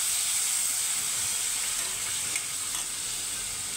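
Ginger and green chili paste frying in a hot pan with pointed gourd in a mustard-based dish, giving a steady, loud sizzle and hiss close up, with faint stirring scrapes and no talking.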